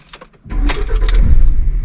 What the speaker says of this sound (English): Start the engine one time.